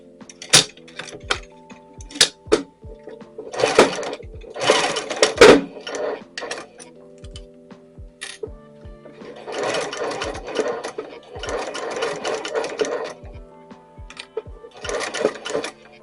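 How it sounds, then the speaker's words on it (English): A sewing machine stitches pleated fabric for a dress-style towel topper in short, separate runs of rapid mechanical whirring, broken by pauses filled with small clicks and handling taps. "now we're going to put it in our machine and we're going to start to sew it"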